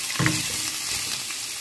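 Crumbled sausage meat sizzles steadily in a hot pan, a continuous bright frying hiss with a brief stirring scrape near the start, close and fairly loud with no voices.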